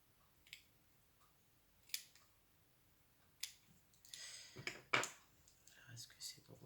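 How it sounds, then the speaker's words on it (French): Sharp snipping clicks of scissors at scattered moments, a few crisp single cuts then a busier flurry of cutting and rustling, fairly close with no talking. "Les ciseaux."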